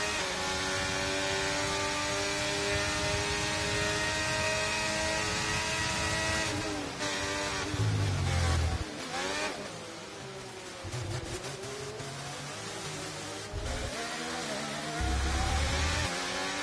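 Ferrari Formula 1 cars in the F1 23 racing game, a continuous high-pitched engine whine that rises and falls through gear shifts and throttle changes, loud and close throughout with no talking.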